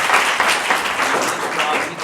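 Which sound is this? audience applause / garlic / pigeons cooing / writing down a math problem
audience applause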